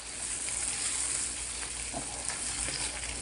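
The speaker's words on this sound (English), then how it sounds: "Want to make sure that the onions don't burn. So we stir it a little bit more" Onions fry in a pan for Jamaican corned beef and butter beans, a steady close sizzle with faint scraping as they are stirred, and no talking.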